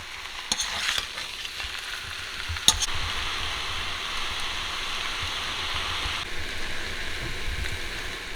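Cumin-spiced potatoes frying in a kadhai, a continuous close sizzle broken by scraping stirs and a sharp clink of the spoon against the metal pan, with no voices.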